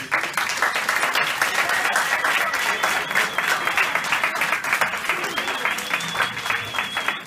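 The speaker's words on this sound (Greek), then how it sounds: "Θέλω ένα μεγάλο χειροκρότημα για αυτό." A graduation ceremony audience gives a long, loud round of applause, a steady dense patter of many hands with a few whoops rising over it.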